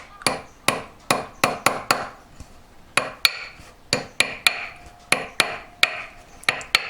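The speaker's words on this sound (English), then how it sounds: "Use a metal one and it just flattens it where you want it flattened." Metal hammer striking a wedding band on a metal block, flattening the ring, in a steady series of sharp, ringing taps, some doubled, close and fairly loud with no talking.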